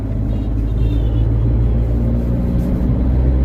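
Steady low three-cylinder engine drone and rumble heard from inside a Tata Punch cabin, continuous and fairly loud with no talking.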